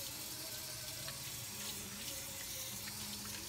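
Tap water runs in a steady, close stream while a pet is rinsed during a bath at home, a continuous splashing wash with no voices.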